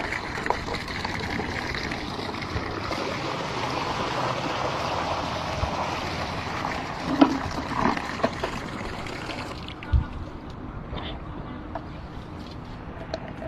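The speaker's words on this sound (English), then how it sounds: "No matter how much water I pour into this bucket, no matter how long I wait, it will never get full." Water trickles and pours steadily into a leaking bucket, a continuous splashing wash that drops off near the end, leaving a few faint drips and knocks.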